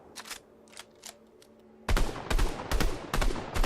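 Gunfire in Fortnite: a few faint distant shots, then a sudden loud close burst of rapid automatic fire that keeps rattling in quick repeated bursts.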